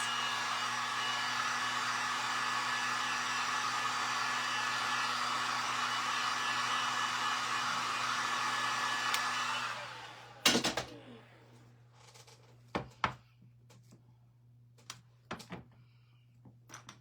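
A heat blower drying wood glue on a woodworking project runs as a steady, close whoosh for about nine seconds, then cuts off, followed by a few sharp knocks and handling sounds.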